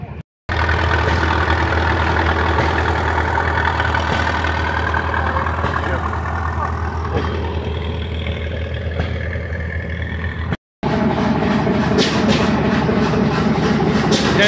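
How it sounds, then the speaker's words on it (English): A big engine runs steadily and loudly at a show, a constant low drone with a brief cut before resuming; voices may be faintly present beneath it. "That's that big engine from before. You hear it running now."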